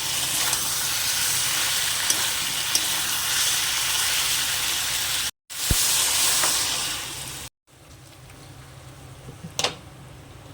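Water poured into a pan of Malabar spinach curry: loud, steady sizzling and hissing runs continuously, breaks off briefly twice, then settles into a quieter simmering bubble.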